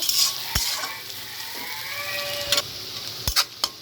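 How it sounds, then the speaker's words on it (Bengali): Onions and green chilies sizzle and crackle in a pan, with a few sharp clinks of a spoon stirring against the metal. "এগুলো আমি এখন একসাথে ভালো করে ভেজে নেব।"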